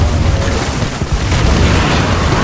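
Two grenades go off close by in Apex Legends, a loud continuous boom and rumble filling the whole moment with no pause between blasts.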